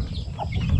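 Shamo Aseel chickens cluck softly and close by in a short burst of low, murmuring calls over a dense background.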